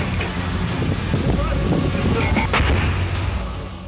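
Gunfire at the India-Pakistan border rings out in rough bursts, several sharp cracks and thuds over a constant low rumble and wind-like roar, dense and loud throughout.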